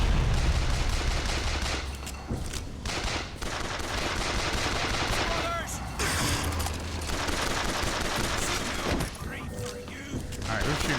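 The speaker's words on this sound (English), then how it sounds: "Alright, who's shooting?" Gunfire in the video game Bioshock Infinite: dense, continuous bursts of shots and explosions fill the whole stretch, loud and busy, with game voices and a talking player mixed in.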